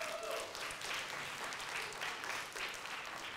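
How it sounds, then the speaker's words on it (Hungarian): An audience applauds a band at a musical puppet-theatre show, a dense, even wash of clapping that carries on steadily throughout at moderate volume. "Egy nagy tapsot kérek a zenekarnak."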